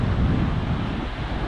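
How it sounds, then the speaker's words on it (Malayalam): Gusty wind buffets the microphone at a river-mouth breakwater as rain threatens, a steady loud low rumble with no voices. "കാറ്റ് വീശി തുടങ്ങി"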